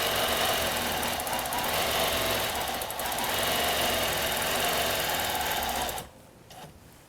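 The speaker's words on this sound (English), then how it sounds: "Sewing on your long arm is just like sewing on your domestic machine" Longarm quilting machine stitching steadily across a quilt top, a fast, even mechanical chatter running continuously up close before it stops abruptly near the end.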